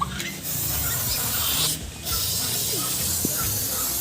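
Continuous aerosol spray can hissing during a rear wheel hub bearing assembly replacement, steady and close, broken by two brief pauses between bursts.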